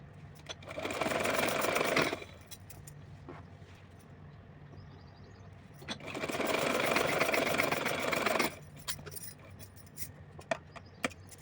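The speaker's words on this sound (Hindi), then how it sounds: "यहाँ से हम खींच करके सिलाई लगाएंगे" Sewing machine stitching elastic onto a small doll nightgown, running in two bursts of rapid, even whirring stitches, about two seconds then close to three, separated by quiet handling clicks.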